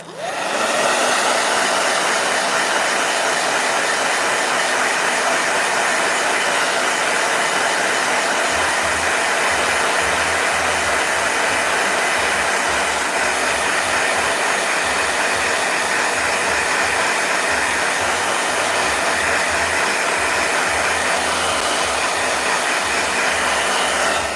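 A blow dryer runs loud and steady close by, a continuous broadband whoosh that stays constant, with a low rumble joining partway through.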